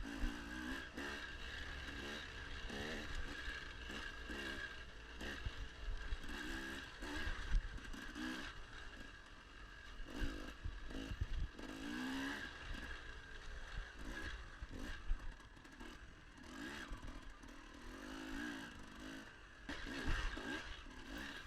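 A dirt bike ridden alone in a moto of a District 17 GP off-road race at Fox Valley Off Road, its engine droning and revving up and down continuously, with wind rush and chassis clatter throughout.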